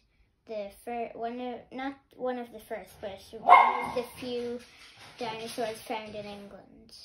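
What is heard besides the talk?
dog barking in the background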